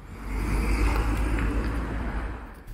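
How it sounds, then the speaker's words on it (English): Cars pass along a road in Riyadh, Saudi Arabia, a close, loud rumbling whoosh of traffic that swells and fades over a few seconds with no talk. "I'll wait for these cars to go."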